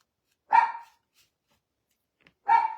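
Dog barking indoors, two separate sharp barks about two seconds apart, close and loud with silence between.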